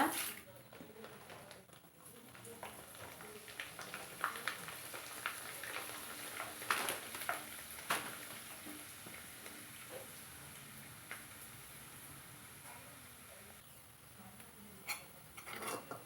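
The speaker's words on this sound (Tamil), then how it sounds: "பாருங்க எண்ணெயில் போட்டு பொரிஞ்சிட்ருக்குங்க" Kanji vadam, a Tamil rice-starch crisp for mixer snack, frying in hot oil, giving a steady soft sizzle and crackle throughout with a few brief sharper pops, no voices present.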